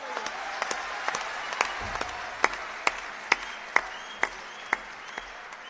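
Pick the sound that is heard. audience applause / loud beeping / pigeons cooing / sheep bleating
audience applause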